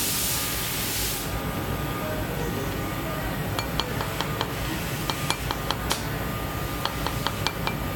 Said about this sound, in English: Now we're going to use the rawhide mallet to push it down the mandrel.